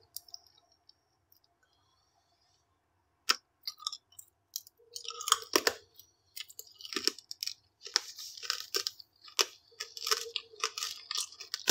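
Close, wet chewing of crunchy food with irregular clicks and crunches building after a quiet start, continuing steadily through the rest with no talking.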